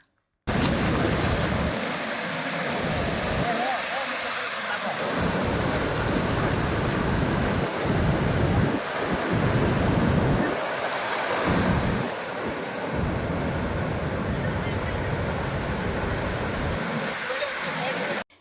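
Sea waves at Puri beach on the Bay of Bengal roll and crash in a steady, loud surf wash, buffeted by wind against the microphone, with brief voices in the gaps.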